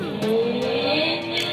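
Racing cars, one of them a Mustang, roar past with a continuous loud engine drone that rises in pitch as they accelerate, with faint tire squeal over the steady roar.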